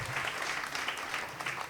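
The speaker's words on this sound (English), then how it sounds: "Give them a round of applause." Audience applause at a regional quiz competition, steady clapping from a crowd filling the room for the whole stretch, no voices over it.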